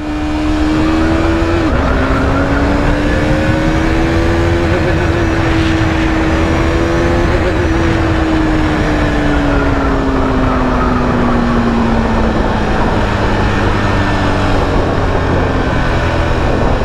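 A loud KTM motorcycle engine, still in break-in with its stock quiet exhaust, hums steadily at close range, its pitch rising and dipping gently as the ride goes on, with wind rushing underneath.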